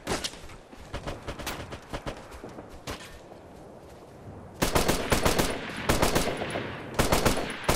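Automatic and rapid gunfire in the video game Operation Flashpoint: Red River, with sustained bursts of machine-gun fire, a quieter stretch of scattered shots, then loud close volleys near the end.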